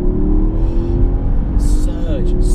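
A sports car of about 550 horsepower accelerates hard in third gear down a long straight, its engine a loud, steady rising drone heard from inside the cabin with no speech over it.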